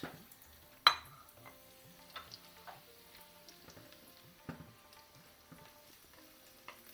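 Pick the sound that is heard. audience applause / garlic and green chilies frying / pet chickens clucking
garlic and green chilies frying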